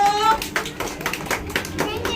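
A class of young children clapping together in a Gujarati classroom, a quick burst of irregular close claps over about two seconds, with a voice talking alongside.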